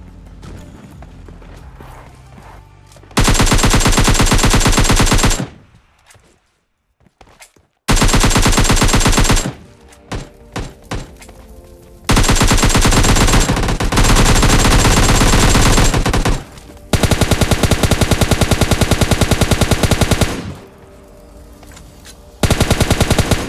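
Heavy automatic gunfire during a shootout with an enemy squad in the mobile game FAU-G, long loud bursts separated by short quiet gaps, with no talk.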